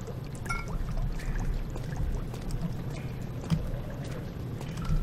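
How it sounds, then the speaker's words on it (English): Oil pouring out in a sewer in Amnesia: The Dark Descent, a steady low liquid splashing and trickling that runs continuously, fairly quiet, with a few faint knocks over it. "Why are you just pouring oil out?"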